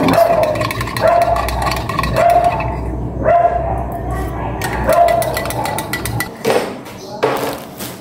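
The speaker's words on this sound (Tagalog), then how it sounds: "Yung mga aso." Dogs bark in short repeated bursts over steady background noise during a power outage, with a few louder barks spaced every second or so and some yips.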